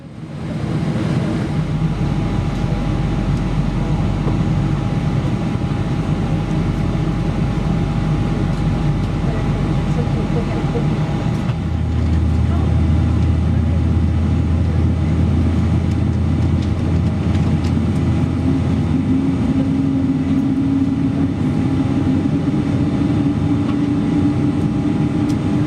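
Engines of a Boeing 787-9 Dreamliner run before taxi, a constant loud cabin drone with a low hum that deepens and steadies partway through, joined later by a faint higher tone.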